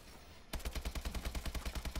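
An AK-12 assault rifle in Call of Duty: Advanced Warfare opens up in sudden full-auto fire, a fast even rattle of about a dozen loud, close shots.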